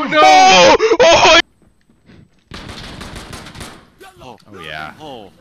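Rapid automatic gunfire in a shooter video game, a dense loud burst of shots for about a second and a half at the start, followed by quieter game sounds and a player's voice.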